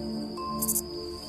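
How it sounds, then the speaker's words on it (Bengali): Crickets trill steadily in a garden at night, a thin continuous high drone with a brief brighter burst midway, set under soft background music. "বাগানে ঝিঝির ডাক"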